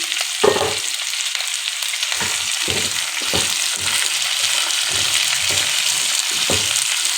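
Cut pumpkin pieces sizzle steadily in a hot pan for a paneer curry, with a burst of frying as they go in and repeated stirring scrapes throughout, close and clear with no talking.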